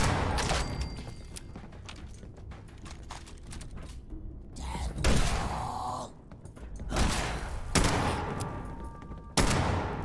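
Enemy gunfire in Fallout 76, bursts of automatic and single shots with sharp loud reports separated by brief lulls, close and alone without talk.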